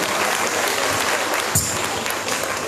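An audience claps for a singer performing on stage, a loud, dense burst of many hands that stays steady throughout, with no voice on top.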